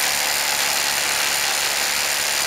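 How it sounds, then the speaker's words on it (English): Ryobi One+ SDS Plus brushless HP rotary hammer, model P223, on a 3-amp-hour battery, boring 3/4-inch holes in limestone: a loud, steady, continuous hammering roar with no pauses and no talk. "Let's test how long a 3-amp-hour high-performance battery lasts drilling 3/4-inch holes in limestone."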